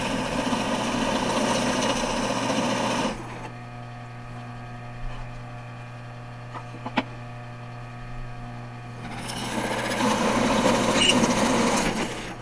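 Drill press running and boring halfway into a wooden board, a steady motor whine and hum with a quieter cutting stretch in the middle and a brief sharp knock, then the motor noise rising again.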